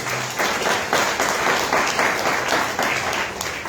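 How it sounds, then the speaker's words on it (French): A studio audience at a live broadcast in Abidjan applauds in a dense, steady wash of many hands clapping, loud and continuous throughout with no talk. "On va applaudir pour lui."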